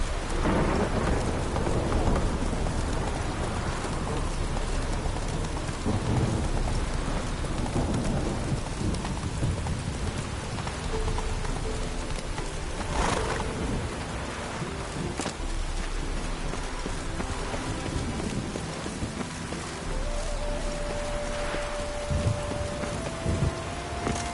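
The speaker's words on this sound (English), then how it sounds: "A storm, damn it." Heavy rain and a thunderstorm in The Witcher 3 video game, a dense steady downpour pattering throughout with deep rumbles of thunder rolling underneath, loud and continuous.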